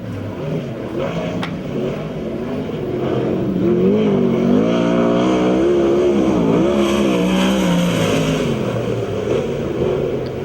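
A USAC/CRA sprint car, number 22C, laps the Perris, California track, its engine a loud, steady roar that rises and falls in pitch through the corners for the whole stretch, heard from trackside.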